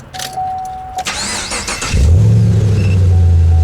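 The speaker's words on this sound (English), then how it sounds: "when I start the car, we should hear 3 beeps indicating that the curb alert is active" A steady electronic tone, a Camaro's curb alert, sounds briefly before the engine cranks and catches, then settles into a low, even idle close by.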